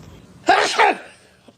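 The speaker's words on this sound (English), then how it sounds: "Who's that sneezing?" One person sneezes once, close and sharp, with a quick two-part burst and a faint sound trailing after it in an otherwise quiet room.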